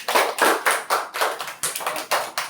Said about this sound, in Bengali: সবাই একটা জোরে হাততালি দিয়ে দাও